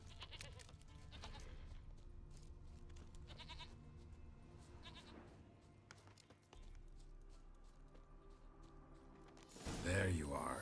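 A goat bleats in The Witcher 3: Wild Hunt, with several calls scattered through the clip over an ambient game soundscape. A louder burst of sound comes near the end.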